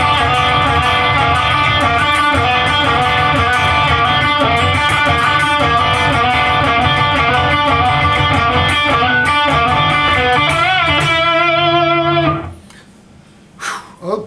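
A loud distorted electric guitar lead plays fast, dense notes over a full band, then stops abruptly near the end, leaving brief scattered sounds.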